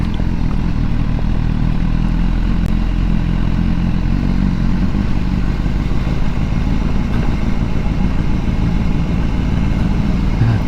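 A BMW motorcycle rides over cobbled streets in Richmond, Yorkshire, giving a steady loud engine drone layered with constant rattling clatter from the rough stones and no break throughout.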